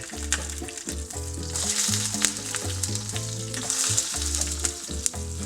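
A Wagyu picanha cut stood on its edge in a pan sizzles steadily and loudly to crisp the fat, with a soft tonal hum running underneath and no talking.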